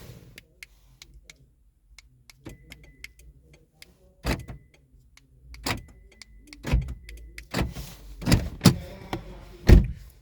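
A 2007-2010 Toyota Camry's door shutting and its locks actuating, heard as a series of sharp, close thumps and mechanical clunks after scattered faint ticks and clicks.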